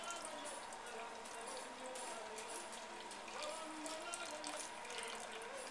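Liquid shrimp and crab boil seasoning pours from a jar into a pot of water, a steady splashing trickle at moderate level with faint background voices.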